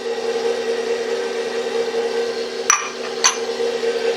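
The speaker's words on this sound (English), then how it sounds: "Make that all blended together." An electric mixer whirs steadily as it blends lemon juice and heavy cream in a bowl, a constant close motor hum broken by two brief sharp clinks near the end.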